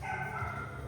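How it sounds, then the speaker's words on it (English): Pet dogs barking indoors in a home kitchen, a close, steady run of barks and yips filling the whole second without pause. "So those are our dogs."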